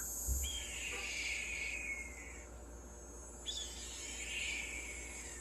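A red-tailed hawk's call from the Nancy Drew game Ghost Dogs of Moon Lake sounds as two long, high descending screeches, the second after a short pause, ringing over a quiet insect-like background hiss.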